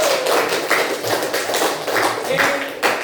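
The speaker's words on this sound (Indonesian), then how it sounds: "tepuk tangan untuk kita semua." Classroom applause from a group of students, a steady dense patter of many hands clapping together that continues throughout, with a brief spoken word near the start.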